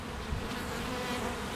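A honey bee swarm split from a hive buzzes densely and continuously, a close, steady drone of many wings with no pauses, voices or other sounds.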